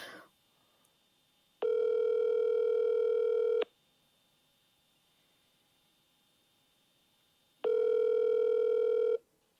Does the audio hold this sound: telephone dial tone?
yes